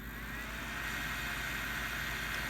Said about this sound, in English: Now it's a little loud because the bearings in this fan are pretty bad